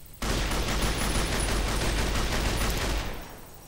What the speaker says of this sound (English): A little test firing. Nice, pretty good sounding.